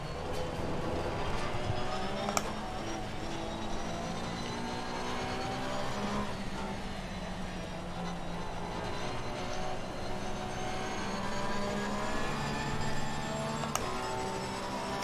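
Race car accelerating on a wet Barcelona circuit in Assetto Corsa Competizione, engine notes repeatedly rising in pitch through gear changes with sharp shift clicks, steady and loud, no voices.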